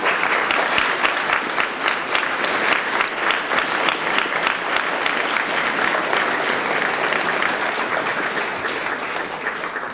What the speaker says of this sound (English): give each other a round of applause for the support that